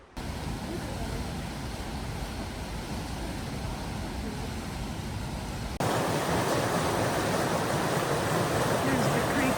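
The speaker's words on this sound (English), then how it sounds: "Here's the creek that goes through the park area of the Trail of the Cedars." A creek rushes through cedar forest along the Trail of the Cedars in Glacier National Park, a constant broadband roar that jumps louder partway through as the position shifts closer to the water.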